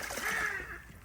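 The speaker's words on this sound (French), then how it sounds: "Un mandarin qui plonge." A mandarin duck dives into water with a short, bright splash and sloshing, close and fairly loud, over in about a second.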